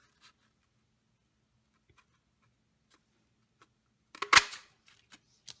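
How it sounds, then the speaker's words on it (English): A Starburst craft punch presses through a sheet of paper, a quiet scattering of small taps and rustles followed by one sharp crunching snap of the punch, then a couple of faint clicks. "I'm using my punch, and this is the Starburst punch, the one that has the little edges on it"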